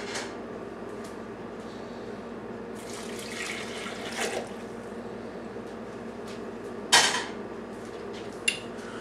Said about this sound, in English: I'm going to take the boiling water,